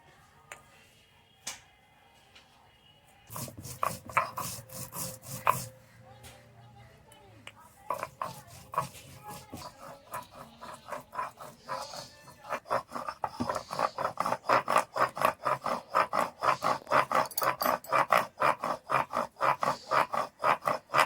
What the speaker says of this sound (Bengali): সর্বপ্রথম আমি জিরেটা বেটে নিচ্ছি